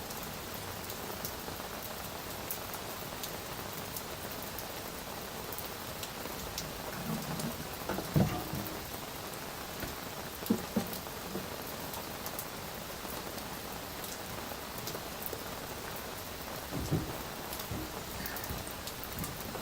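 Steady rain patters on an old canopy with holes, a dense, continuous hiss with occasional heavier drips and soft thuds, and low rumbles of thunder in the distance.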